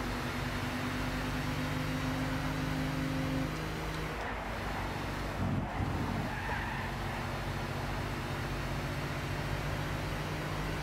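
A BMW Z8 racing in Gran Turismo 6, its engine holding a steady, loud drone, with a brief tyre-scrub dip in the middle and no voices.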